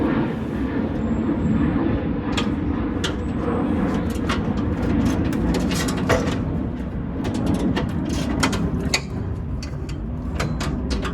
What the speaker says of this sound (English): I live near an airport, as you can hear.